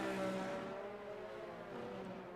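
Formula 1 cars racing in the F1 2023 video game at the Singapore Grand Prix, a steady high engine whine with tonal harmonics that fades slightly, fairly distant and continuous.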